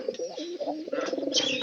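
A dense, continuous run of soft, burbling coos from several pigeons close at hand, mixed with brighter chirps toward the end and no pause in between.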